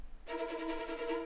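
8Dio Adagio violin section playing slow measured tremolo, a sustained bowed chord pulsing in even, gently separated strokes, soft and unaccompanied for about a second.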